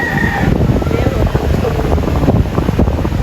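Steady wind buffets the microphone under a bridge throughout, a rough low rumble that never lets up.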